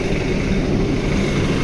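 The engine of an STJ Vellago bus with trouble, stopped while its radiator cools, roars loudly and steadily with a dense, airplane-like drone.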